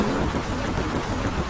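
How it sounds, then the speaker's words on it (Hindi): Heavy rain as a cartoon sound effect, a dense, constant roar of downpour that stays loud and even throughout. "अगले दिन सुबह भी बारिश बहुत तेज हो रही थी।"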